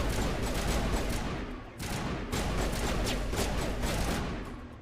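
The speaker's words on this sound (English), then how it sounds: "What's everyone shooting at?" Dense, rapid gunfire crackles in Mass Effect Legendary, a near continuous fusillade of overlapping shots with brief lulls, loud and close.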